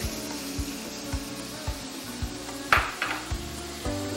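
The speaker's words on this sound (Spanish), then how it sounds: "Lo vamos a saltear. Vamos a agregar un poco de cebolla, poquita cebolla." Onion sautéing in a pan, a low sizzle under repeated clinks and taps of a utensil against the pan, with a brief louder scrape near the middle, no talking.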